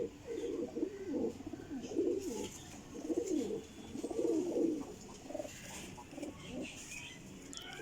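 Rampur Teddy pigeons coo in low, rounded bursts repeating every second or so, close and fairly soft, with faint background hiss and no talking.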